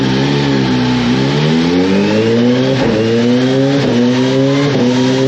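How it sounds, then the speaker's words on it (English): Kawasaki Z H2 motorcycle with a flashed ECU held wide open on a dyno, a loud continuous engine roar climbing in pitch with brief dips at each gear change, close and unbroken, with no voices. "We're about to rip her with the new Flashed ECU"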